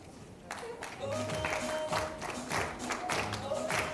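An audience at a live teen pregnancy report event in Kenya stands and applauds to welcome the chief guest, steady crowd clapping mixed with voices and background music.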